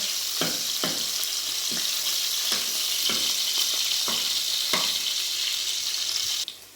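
Garlic browns in a pan for village-style sarson saag, sizzling steadily and close with periodic sharp clicks of stirring, then cutting off at the end.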